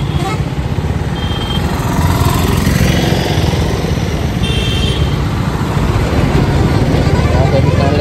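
A 2024 KTM Duke 250 motorcycle engine drones steadily while riding and turning on the road, loud and continuous under wind noise, with the rider talking over it.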